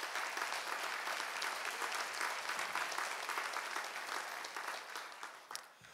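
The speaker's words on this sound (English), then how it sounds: "And I'd like to give them a big round of applause." Lecture hall audience gives a sustained round of applause at the Brossman Lecture, a dense, steady clapping that holds for several seconds, then thins and fades near the end.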